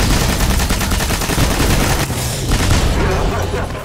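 Rapid automatic gunfire in the video game Destiny, a loud dense stream of shots that continues nonstop for about four seconds.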